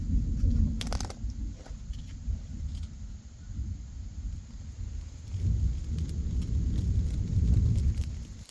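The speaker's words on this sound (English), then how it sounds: "Sky's getting dark over there. I'm hearing thunder." Distant thunder in the wilderness before a storm: a low, drawn-out rumble that swells and fades, heard outdoors with no voices.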